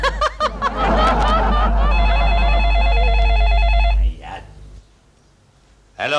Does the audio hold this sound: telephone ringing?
yes